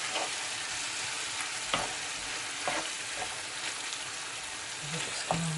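Cooked beef and softened onions frying over low heat in a pan for quesadillas, a steady close sizzle with occasional stirring scrapes and taps, no talk.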